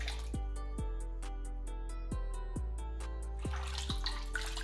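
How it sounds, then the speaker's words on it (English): Slow, regular drips of water fall into a basin while a human kinky curly hair weft is gently rinsed by hand, a low tonal hum running steadily underneath. "I carefully run my hands on the weft to clean them gently"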